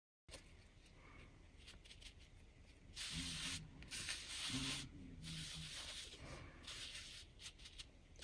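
A brush rubs gilding flakes into glue in small circular motions, giving a steady soft scrubbing hiss that swells and eases with each stroke, close and alone.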